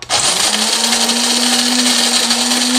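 A Cuisinart Supreme Grind automatic burr coffee grinder runs on its coarse setting, a loud steady whirring grind that starts abruptly and holds a rising motor pitch throughout, alone with no talk.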